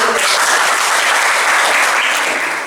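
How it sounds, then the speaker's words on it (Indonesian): A classroom of students claps together in a brief, loud, dense burst of applause, close and steady throughout. "Oke ya, berikan tepuk tangan."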